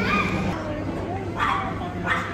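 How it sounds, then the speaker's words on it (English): A dog on a leash barks and yips outdoors in short bursts, heard amid background voices and ambient street noise, moderately near. "They finally got the dog and put him on a leash where it belongs."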